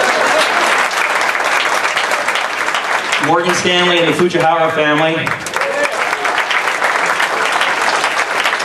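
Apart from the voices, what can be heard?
audience applause for sponsors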